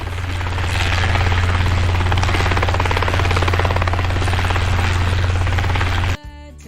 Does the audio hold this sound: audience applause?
no